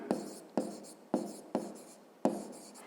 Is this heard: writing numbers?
yes